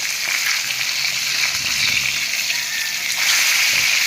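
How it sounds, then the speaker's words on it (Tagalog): Tilapia fries in hot oil with a steady, close crackling sizzle that swells slightly toward the end, with no talking. "Pritong tilapia."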